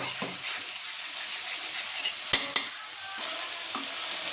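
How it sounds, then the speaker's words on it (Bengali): Dried fish cooking in a pan with pui leaves, eggplant, potato and tomato gives off a steady close sizzle, with two sharp clinks of a spoon or utensil partway through and no one speaking. "আজকে পুঁই শাকের পাতা, বেগুন, আলু দিয়ে টমেটো দিয়ে শুটকি রান্না করছি।"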